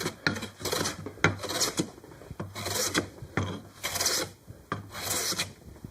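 A hand plane shaves a rough bandsaw-cut surface on a wooden dining chair part, making about five long rasping strokes in a steady back-and-forth rhythm, close and clear with no talk.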